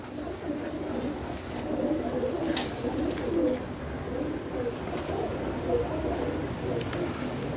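Soft, steady cooing from a loft of champion racing pigeons in Lahore fills the air nearby, with faint rustles, occasional sharp clicks and quiet talk beneath.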